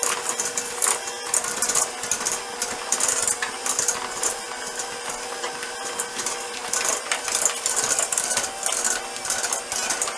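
Electric mixer beating cookie dough with sugar for lemon crinkle cookies, a continuous whirring motor with rapid rattling, clattering beater strokes against the bowl, steady and close for the whole stretch.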